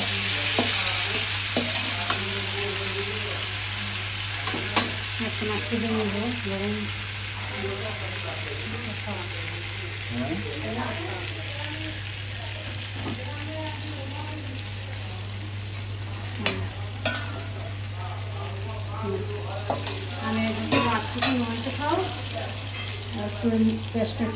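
Fried rohu fish is stirred with spices in a pan for a curry with eggplant, a constant sizzle under repeated scraping stirs, with a low steady hum beneath and occasional voices.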